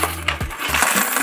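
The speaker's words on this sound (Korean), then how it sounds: "동전이 몇 개 들어갈까요 여기?" Coins, 100-won pieces, drop into a pig-shaped piggy bank with a few close, brief clinks and rattles. Nothing else is heard around them.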